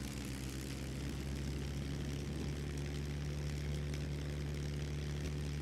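A propeller plane's engine drones steadily while taxiing in the survival game Scum, a constant low, even hum with no talking.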